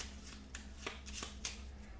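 A stack of event cards for the Kingsport Festival board game is riffle-shuffled close up, giving repeated bursts of crisp card flutter over a low steady hum, with no talking.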